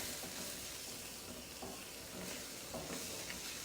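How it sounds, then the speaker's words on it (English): Thai red curry paste is stirred into a pork curry, giving a faint, steady sizzle with soft scraping stir sounds, close but low in level and without talk. "about 2 tablespoons or more of the Thai red curry paste. Stir that in."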